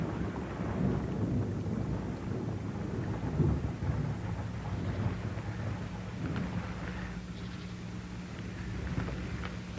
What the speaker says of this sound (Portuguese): a pesada gota de chuva que penetra a floresta